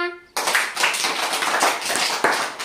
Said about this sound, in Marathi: आणि टाळ्या वाजवा.